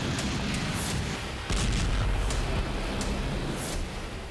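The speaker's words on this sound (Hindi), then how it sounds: "पलक झपकते ही यह मिसाइल नीप्रो पावर प्लांट पर गिरती है और जबरदस्त धमाका होता है" A heavy blast from a KH-101 cruise missile striking the Dnipro hydroelectric power plant in Zaporizhzhia, a loud booming impact with rumbling aftermath and several sharp cracks scattered across a dense, noisy background.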